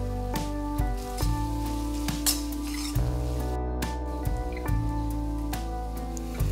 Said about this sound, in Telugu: అది వేగాక కొద్దిగా ధనియాల పొడి, గరం మసాలా, తగినంత కారం వేసుకొని బాగా వేపుకోండి